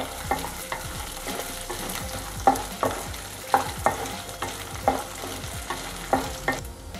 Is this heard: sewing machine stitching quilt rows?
no